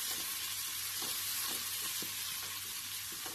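Chopped onion sizzling steadily in a hot pan of oil for a potato and fenugreek curry, a continuous loud hiss with faint scraping stirs underneath and no voices.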